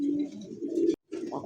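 Caged pigeons coo and call in a steady, close chorus, with a brief silence just before the one-second mark before the cooing resumes.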